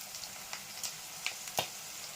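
Chicken and curry leaves frying in oil for a Telugu-style chicken fry, a quiet continuous sizzle with a few faint ticks and pops, no voices.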